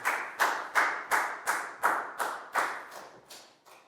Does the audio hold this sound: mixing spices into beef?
no